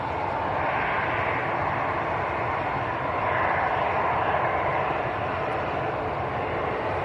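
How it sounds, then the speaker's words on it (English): An EasyJet airliner rolls down the runway for takeoff at Manchester Airport, giving a steady, broad engine roar that holds at one level throughout, heard from a distance with no talk. "Two aircraft lined up on the runway at the moment. One's here we go, first one's rolling, second one's lined up behind, both EasyJets."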